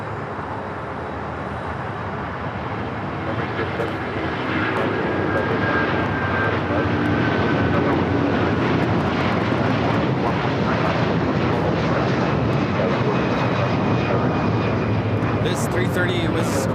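A 2007-built Airbus A330 takes off at LAX, a loud broadband engine roar that swells after the first few seconds and holds strong, with voices talking over it.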